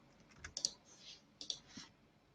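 A few quiet, separate clicks from a computer keyboard, two small clusters of keystrokes in a hushed room.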